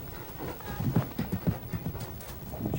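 A horse clip-clopping over a cross-country course at a horse trials event in Massachusetts, hooves striking in a quick, uneven rhythm, fairly close, with a faint voice underneath.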